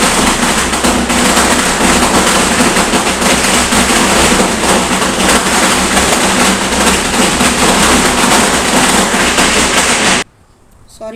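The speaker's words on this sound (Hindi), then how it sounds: "लेकिन कौन पटाखे बजा रहे हैं मालूम नहीं" Firecrackers going off outdoors late at night, heard as a loud, dense, continuous crackling barrage that runs steadily for about ten seconds, then cuts off abruptly into near silence.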